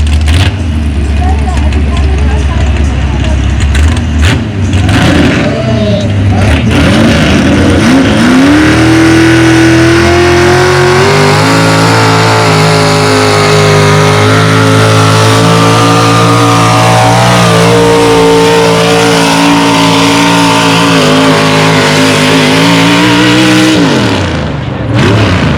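A Pro Mod pulling tractor burning alcohol roars at full throttle down the track at a tractor pull, loud and sustained, its pitch climbing and holding for about twenty seconds before dropping as it settles.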